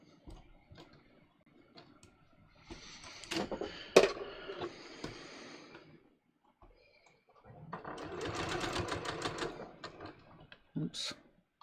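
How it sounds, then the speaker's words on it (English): A sewing machine stitching a welt pocket, running in two separate bursts of fast, steady mechanical ticking, close by and moderate in volume, with quieter handling noises and pauses between them. "So again, we're just sewing"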